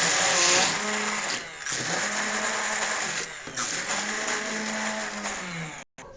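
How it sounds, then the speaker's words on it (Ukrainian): A kitchen blender whirs loudly and steadily blending soaked soured millet, its motor pitch dipping briefly a few times as it churns, then cuts off abruptly near the end. "пшоно покисло, перебиваємо блендером."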